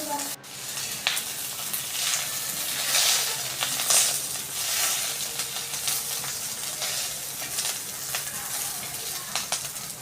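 Green chillies sizzling in a little oil in a pan, a steady broadband crackle that swells and eases over ten seconds, with a sharp knock at the start.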